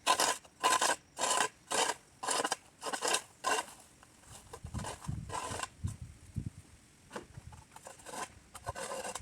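A garden edging tool cuts through soil along a bed edge during bed cleanup, a series of about ten sharp raspy scraping strokes, near and rhythmic, followed by softer scuffing scrapes.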